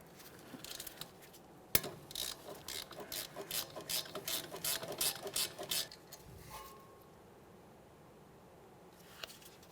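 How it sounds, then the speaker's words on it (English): Close, crisp ratchet clicking in quick bursts as a 12mm bolt is loosened from the rear wheel bearing of a 2014-2018 Mazda 3, preceded by a sharp metallic tap and fading into quiet. "Go ahead and remove that bolt and the sensor wiring harness from the back side of the bearing."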